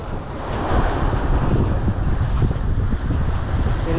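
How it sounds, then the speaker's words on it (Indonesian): Strong wind roars across the microphone over crashing sea waves at Patimban harbour, a loud, continuous, close rumble with no voices. "Gelombangnya udah lumayan besar nih teman-teman, dan anginnya juga kencang ya."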